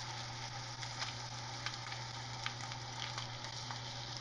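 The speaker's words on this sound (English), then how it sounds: "I'm gonna start by searing the steak" Steady crackling sizzle from a ribeye steak searing fat side first in a hot pan, with a constant low hum of a fan running underneath throughout.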